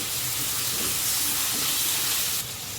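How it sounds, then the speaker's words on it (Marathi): Chopped tomato sautéing in a pan over softened pink onions, a steady broadband hiss like steam that runs evenly throughout and drops slightly near the end, with no talk. "आता त्याच्यावर आपण टॅमॅटो टाकायचा आहे एक कापलेला तो पण परतून घ्यायचा आहे"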